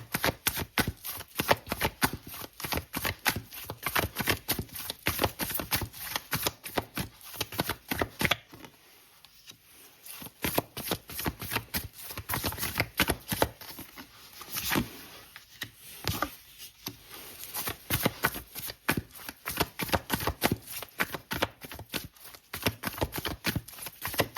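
Tarot cards being shuffled by hand, a rapid and continuous riffling patter that runs almost without break, with one short lull partway through. Close and fairly loud, with no voices.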